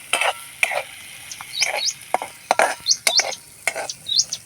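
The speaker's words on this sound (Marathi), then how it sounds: "शेंगदाणे आणि हिरवी मिरचीचं तर आता हे थोडा वेळ तळून घ्यायचं आहे" A mix of peanuts and green chilies frying in a pan, stirred again and again: a soft sizzle runs underneath while scraping strokes and short metallic clinks come in an irregular rhythm, close and fairly loud.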